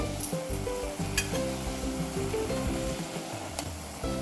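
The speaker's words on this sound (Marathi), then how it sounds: "आता हे पाणी छान उकळलंय" Water with a little coconut boils in a pan for sweet Konkani khandvi, giving a close, busy bubbling and sizzling with occasional light clinks of a utensil against the pan.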